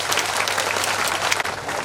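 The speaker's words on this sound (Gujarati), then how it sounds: "એટલે એકવાર આપણે તમામ સ્વયંસેવકો માટે જોરદાર તાળીઓથી વધાવશું." A temple audience at a Shri Ramji Pran Pratishtha festival claps loudly and steadily for the event's volunteers, a dense, sustained burst of applause with no pauses.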